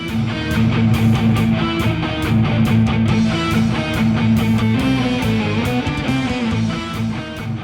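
Electric guitar run through a Boss ME-80 multi-effects unit at a Surabaya music expo, a song played loud and continuous with dense sustained chords and quick picked notes, no talking.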